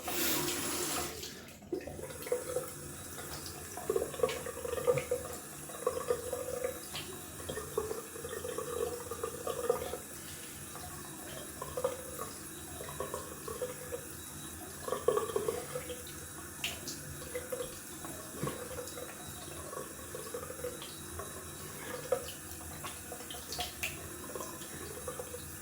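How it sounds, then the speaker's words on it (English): Tap water running into a sink for rinsing after a wet shave, a steady quiet stream with light splashing and occasional drips, close by and alone. "Just gonna rinse off."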